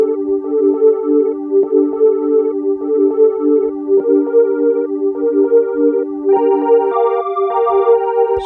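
A dark textured sample plays a simple sustained chord progression with a small melody on top, smooth and steady with soft pulsing attacks, a higher line entering near the end, no voices.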